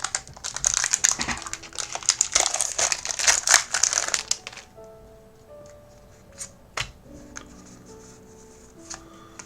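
A Pokémon card pack wrapper being torn open, producing several seconds of loud, close crinkling foil, followed by quieter, scattered rustles and light taps.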